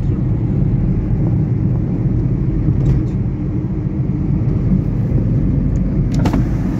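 Steady, loud engine and road rumble fills the cabin of a Renault Triber carrying eight people along the Kolkata–Digha highway near the Rupnarayan river, continuous and unbroken, with no talking.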